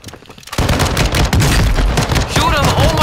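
Dense, loud gunfire from Warzone 2 erupts after a brief quiet start and rattles on continuously in rapid bursts, with a voice talking faintly underneath.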